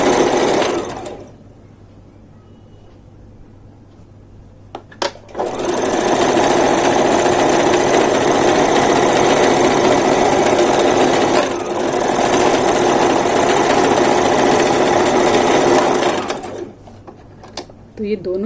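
A domestic sewing machine stitches seams on pant-cut palazzo trousers, running in a long, steady mechanical whir with short pauses between seams, loud and close.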